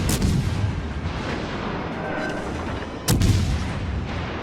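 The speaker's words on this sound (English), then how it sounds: "The guns reload on Suzyua so quick that you can really get an unbelievable amount of shells on target extremely quickly" The Japanese cruiser Suzuya fires naval gun salvos in World of Warships Legends: booming reports open the clip and another sharp salvo lands near the end, over a rumbling battle backdrop.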